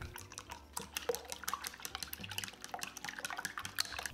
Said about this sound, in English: In a large bowl, we're gonna crack in the eggs and whisk.